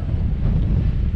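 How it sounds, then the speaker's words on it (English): Strong wind gusts roar across the summit of Ben Nevis on a wild winter night, a loud, steady buffeting rush against the microphone with no other sounds. "that wind's picking up now."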